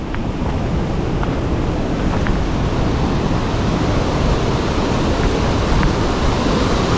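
Cascade du Dard, a waterfall in the Mont Blanc massif, roars as a dense, loud, unbroken rush of falling water with no voices heard.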